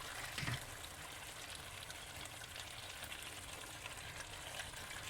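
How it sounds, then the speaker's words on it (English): A steady, even sizzle of chicken frying in a pot fills the clip, hissing continuously with a soft bump near the start. "Remember to place the chicken, don't just throw it into the pot, it'll start splashing and burn you."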